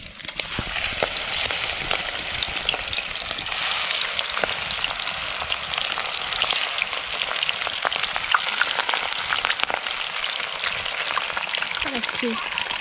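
Food frying in a pan outdoors beside a stream during a fishing trip lunch, a steady dense sizzle and crackle running throughout with occasional stirring clicks, fairly loud and close.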